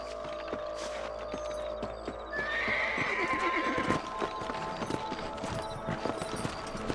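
Horses in the Red Dead Redemption video game: a loud whinny rises midway over steady clip-clopping hooves, with game ambience underneath and a rhythmic trot continuing to the end.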